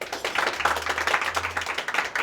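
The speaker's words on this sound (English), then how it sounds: "please give a round of applause to our clients." An audience at a corporate breakfast claps in a short, brisk burst of applause, close and moderately loud, with individual hand claps distinct.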